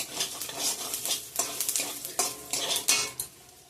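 Whole coriander seeds hit a hot pan and are stirred with a utensil, giving light sizzling under repeated scraping strokes and clinks of metal against the pan, close and fairly loud.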